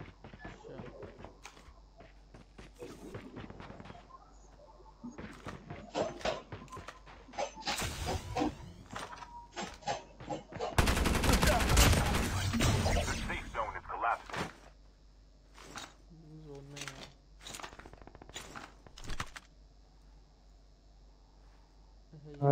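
Gunfire in a battle royale video game, with a Sniper MK2 rifle in use, comes as scattered sharp cracks and two dense, loud broadband bursts in the middle, under a player's ongoing talk.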